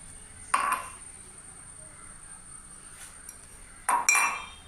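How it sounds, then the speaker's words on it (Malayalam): Three matching drinking glasses are lifted in a home kitchen while tea is made. Two bright clinks sound close by, the first early and the second, a quick double knock of glass, near the end, with quiet room hush between and no talk. "ഞാൻ ഗ്ലാസ് എടുത്തിട്ട് വരാവേ"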